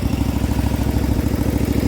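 A small homemade wheel loader's engine idling, with a steady rapid mid-pitched chugging and a slight clatter, close and even, no voices.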